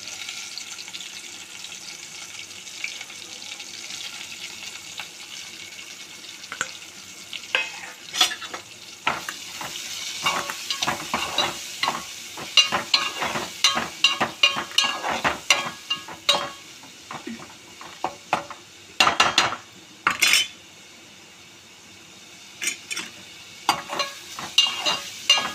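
Quarter kilo of okra (bhindi) fries in hot oil with masala, a steady sizzle broken by sharp spatula scrapes and clatters against the pan, growing busier and louder midway, with no talk.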